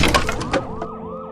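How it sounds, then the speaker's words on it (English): Police sirens wail at night, rising and falling in overlapping sweeps after a sharp crash-like burst at the start, loud and fading slightly as they continue. "Sirens wailed."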